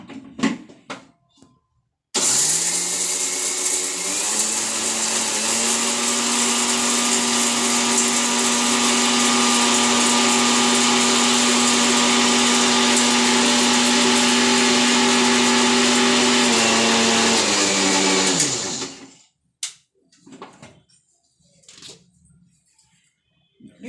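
A loud, steady mixer whir grinding spices with chillies into powder runs continuously for about sixteen seconds, then cuts off, followed by a few faint clatters.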